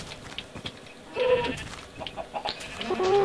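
Sheep bleating in Minecraft, a couple of short nasal bleats over scattered game clicks and footsteps, close and moderate in level, with no talk.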